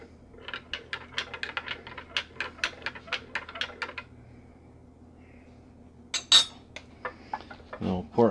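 Rapid metallic clinking of a spoon against a glass for several seconds, a steady stirring rhythm, followed by a pause and a few louder clanks.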